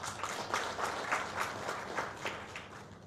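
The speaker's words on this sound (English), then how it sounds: "Clap for them, please" Audience clapping at a meeting of a veterans' association, a soft, fairly distant wash of many hands with a steady rhythm that carries on for a few seconds.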